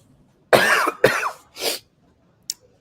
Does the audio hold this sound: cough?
yes